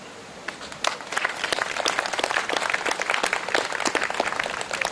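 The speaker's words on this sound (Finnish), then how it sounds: "aplodit." An audience applauds at a regional maiden pageant presentation in Asikkala, with scattered claps swelling into steady, sustained clapping throughout.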